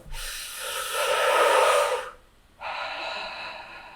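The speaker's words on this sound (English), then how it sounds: "If the dream is not realistic enough, you breathe in deeply." A deep breath drawn in through the nose and mouth, a long close airy rush of about two seconds, then a short pause and a second steady breath that fades out, with no talking.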